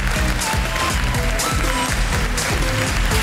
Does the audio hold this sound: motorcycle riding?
no